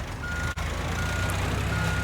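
A loud truck in the video game Teardown, a steady heavy engine drone with a brief dropout near the start, close and alone.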